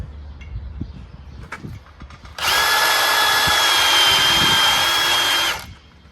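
A power drill bores a pilot hole into a pipe for a mechanical tee, running as a loud steady whine for about three seconds after some quiet handling clinks, then winding down.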